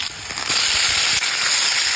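Food sautés in a pan over a wood-fired stove in a house, a loud continuous sizzle and hiss with scattered crackles, close and without talk.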